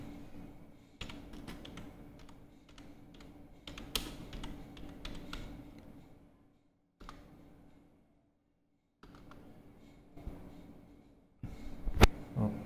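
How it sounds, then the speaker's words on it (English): Keystrokes on a computer keyboard entering text into the Microsoft Edge browser, quiet and close, in irregular bursts broken by a silent pause and a sharper click near the end. "I'm going to type here Engineerswell"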